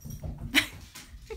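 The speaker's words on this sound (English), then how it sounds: "There's dogs wrestling" Indoors, dogs wrestle, giving a few short whimpers and yips amid scuffling, fairly close and with no talk.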